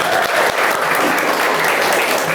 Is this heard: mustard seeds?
no